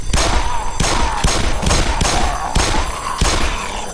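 Loud, regular gunshots from shooting in the Black Mesa video game, about six heavy booming blasts spaced roughly half a second apart over constant background noise.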